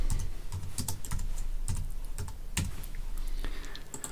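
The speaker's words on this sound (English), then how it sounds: "I'm going to hold the Shift key down, click on the icon" Close computer keyboard key presses and mouse clicks while editing a winter snow scene image, with sharp, scattered taps and clicks at an irregular pace over quiet room noise.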